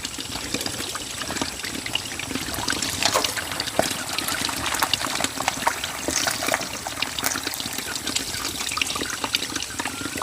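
Weak spring water trickling and splashing steadily in the open air, a thin continuous flow over stone during the dry season, moderately close with no talk.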